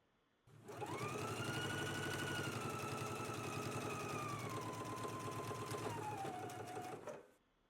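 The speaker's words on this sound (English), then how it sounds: "Let's do the understitching now." Sewing machine running a long, steady understitching seam on a fly facing for a ME2096 garment, a continuous close mechanical whir that holds at one speed for several seconds before stopping, with no voices.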